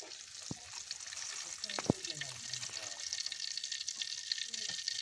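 Cumin seeds sizzling in about 100 grams of hot oil for a fish curry, a steady soft frying hiss with a few sharp clinks of a utensil against the pan, fairly quiet and close.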